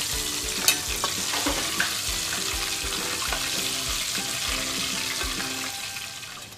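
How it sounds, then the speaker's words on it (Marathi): Prawns fry in an oiled pan for a Maharashtrian prawn chili dish: a dense, constant close sizzle with soft periodic thumps and no one speaking. "आता आपली कोळंबी मस्त अशी तळून झालेली आहे"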